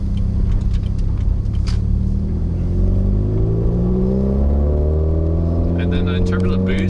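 A turbocharged 2015 Subaru WRX accelerating, its engine note climbing steadily in pitch through a gear as the revs rise, loud and close from inside the car, with a faint whoosh of turbo air on top.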